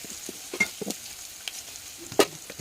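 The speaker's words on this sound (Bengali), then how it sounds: "তারপর ভেজে নিচ্ছি এখন পেঁয়াজ কুচি" Chopped onion frying in oil in a pan after garlic, a soft crackling sizzle with scattered pops and a few sharper stirring clicks, fairly quiet with no talk.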